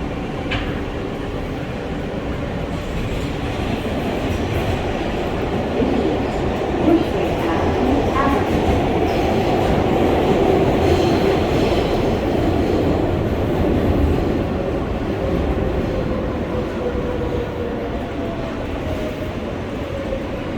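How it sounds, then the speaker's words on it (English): An R143 subway train rides the L line in New York, a continuous loud rumble of wheels and car body with faint rhythmic clatter, steady from start to end with no talking. "This is a Rockaway Pkwy bound L train."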